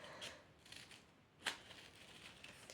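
Scissors cut scrapbooking paper for a black-and-white Valentine's pocket letter, giving quiet close snips with one sharper cut in the middle, against a faint, otherwise still background.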